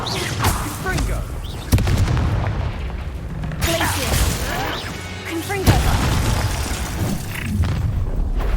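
Loud, deep booms from a Confringo blasting spell in Hogwarts Legacy, a couple of heavy explosive bursts with crackling debris and combat noise, with spoken lines in the mix.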